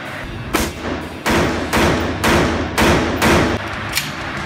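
A rifle fires on an outdoor range, several sharp loud reports spaced roughly half a second apart, each with a short echoing tail, close by and with no talk.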